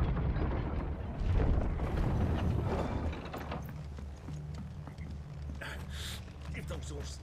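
Horse hooves clip-clop in Final Fantasy XVI, steady and moderately loud under dense game ambience and a speaking voice during the first few seconds, then thinning to a low rumble.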